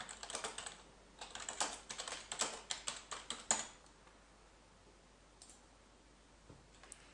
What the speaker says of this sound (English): if I type in Casio Sport Dive Watch